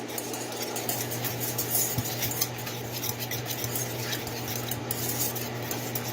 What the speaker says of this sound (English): I will use a little tiny whisk to